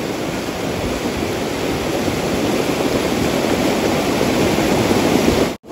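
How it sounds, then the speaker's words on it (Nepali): A swollen river surges near a village after a landslide, a loud, unbroken roar of rushing water filling the whole scene, steady throughout and cutting off abruptly at the end. "खोला बढ्दैछ है खोला बढ्दै"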